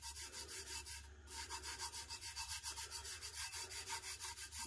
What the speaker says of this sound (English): I'm just going to kind of burnish it like I would with regular Tack It.